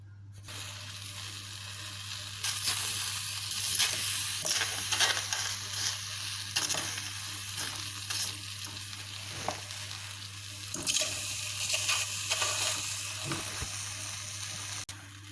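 Plantain pieces frying in a hot pan with no oil, a continuous close sizzle with occasional louder crackles and pops, no speech over it.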